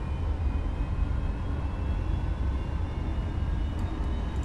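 Steady cockpit drone of a Boeing 737 climbing in flight in the X-Plane 11 simulator, a continuous low engine rumble and air roar held at even loudness throughout with no speech.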